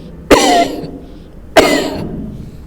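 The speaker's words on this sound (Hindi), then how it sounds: "और उसके बाद खांसना है।" Two sharp, loud coughs spaced about a second apart, each following a deep breath taken while leaning forward in a prone position during a home breathing exercise for COVID-19 recovery.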